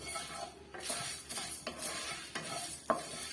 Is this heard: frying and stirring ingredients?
yes